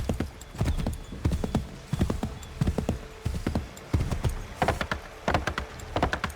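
Horse hooves clip-clop steadily in Assassin's Creed 3 Remastered, a brisk, loud, even trotting rhythm that runs the whole time with no talk over it.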